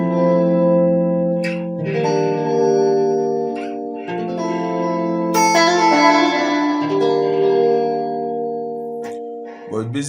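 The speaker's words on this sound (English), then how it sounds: "That is for the room reverb." Electric guitar chords played through a reverb pedal on its room setting with a 2.7-second decay. Sustained, layered notes bloom and ring out in long reverberant tails, changing chord every couple of seconds, loud and alone without talk.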